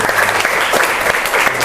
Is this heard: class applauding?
yes